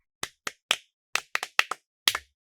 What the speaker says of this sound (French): Pouvez-vous applaudir pour Gift?